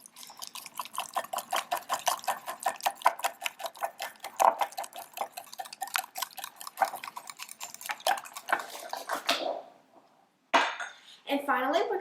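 Egg being whisked into chocolate lava cake batter in a bowl, rapid rhythmic tapping strokes close up, briefly pausing near the end before resuming.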